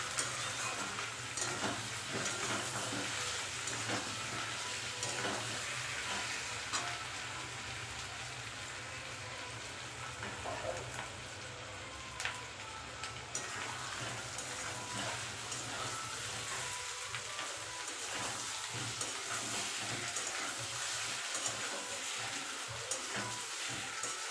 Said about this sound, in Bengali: ভালো করে এবার ভাজবো আলু পেঁয়াজের সাথে একসাথে ভালো করে কষিয়ে নেবো